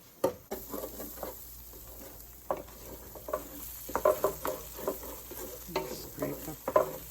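Flour cooking in turkey drippings for Thanksgiving gravy, a spoon stirring and scraping the pan in repeated soft strokes over a low, steady sizzle, close up.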